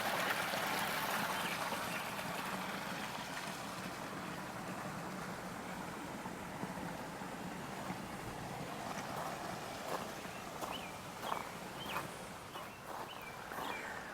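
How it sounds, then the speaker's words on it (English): River water running steadily over rocks near a bench at a summer plant nursery, a continuous broad rushing wash, fairly faint, with a few light chirps toward the end. "just listen to that water running"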